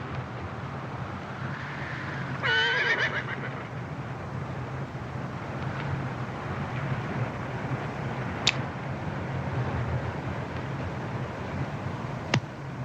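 A horse neighs once with a wavering whinny in an open Western frontier setting, heard at moderate distance over steady wind and low rumbling background noise, followed by a long quiet stretch with a couple of faint clicks.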